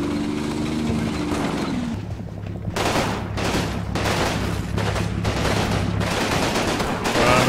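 Vickers machine guns fire in the wartime strategy game Combat Mission, with steady, rapid bursts of gunfire at mid-distance over a low engine drone, continuous for several seconds.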